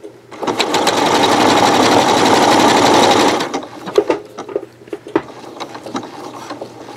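A sewing machine stitches a decorative pattern around a coiled rope bowl, a loud, close, continuous rattling hum for about three seconds, then stopping into scattered clicks and knocks.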